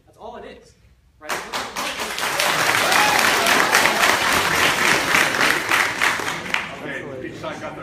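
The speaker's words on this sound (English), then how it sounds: "each side got their claps in" Applause from an audience at a 2017 University of Dayton college debate between College Republicans and College Democrats, a loud sustained burst of many hands clapping that starts abruptly after a brief spoken moment and fades near the end.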